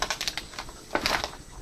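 A catnip package is handled and opened up close, giving a run of quick, crisp crinkling and rustling clicks in irregular bursts, with no talk.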